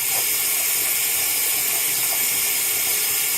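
Tap water runs steadily during handwashing practice, a continuous broadband hiss of flowing water from start to finish with no speech.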